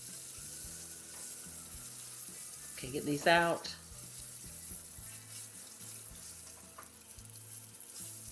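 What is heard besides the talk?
quail deep frying in oil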